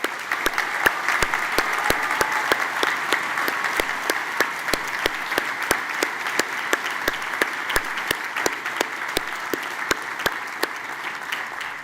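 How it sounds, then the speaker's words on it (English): Applause from the audience at a Cooper Union commencement ceremony, a long sustained wash of clapping with sharp individual claps standing out at a regular beat close by. "Graduates, please join me in a round of applause to thank your outstanding faculty and staff."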